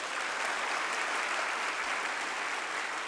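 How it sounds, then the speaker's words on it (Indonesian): Talk show audience clapping loudly and steadily, a dense continuous wash of applause from a large crowd with no voices standing out. "Kalau setuju coba tepuk tangannya lebih keras."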